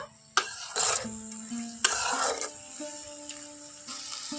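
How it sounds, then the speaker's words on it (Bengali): Turmeric, salt and ground spices are stirred in a pan with a few separate scraping strokes of a spoon, each a short gritty rasp over a faint sizzle and a steady low hum. "সব কিছু এখন একবার ভালো করে নাড়াচাড়া করে দেব"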